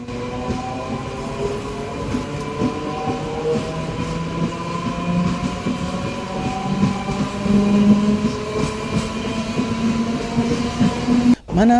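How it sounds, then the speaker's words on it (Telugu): After a one-minute halt at HBL Nagar station, a MEMU train pulls away and runs on. A loud, continuous rumble builds with rising motor whine, rail clatter rolls underneath, and a sudden brief drop in level comes near the end. "ఒక నిమిషం హాల్ట్ తర్వాత మన ట్రైన్ తిరిగి బయలుదేరింది."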